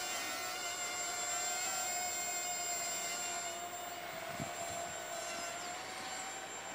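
A Hubsan H107D mini quadcopter drone flies nearby, giving a steady high-pitched motor whine with a constant tone and no talking.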